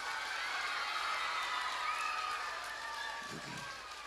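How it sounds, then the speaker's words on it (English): Steady applause from a school assembly crowd fills the room, a dense continuous clapping that holds at an even level and then eases slightly toward the end. "Give her a big round of applause."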